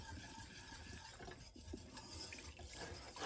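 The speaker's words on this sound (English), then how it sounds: "I'm going to give my roux one more stir here to integrate" Dark roux of flour and oil being stirred in a very hot pot fresh from the oven for gumbo, a steady low scraping and swishing that runs close and continuous with no talk.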